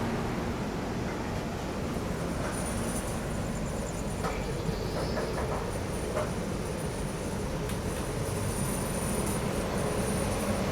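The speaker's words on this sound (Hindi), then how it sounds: "अपनी ट्रेन अभी निकल रही है वडोदरा जंक्शन से" Inside the Jaipur–Mumbai nonstop special train as it pulls out of Vadodara Junction at dawn, a steady, dense rumble of wheels and carriage noise persists without pause.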